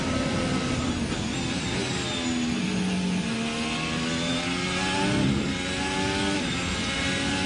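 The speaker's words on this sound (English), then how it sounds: "See how quick these cars climb up through the gears these days." A Formula 1 car at the 2017 Brazil Grand Prix practice accelerating hard, its screaming engine note rising and dropping as it snaps quickly up through the gears, loud and continuous.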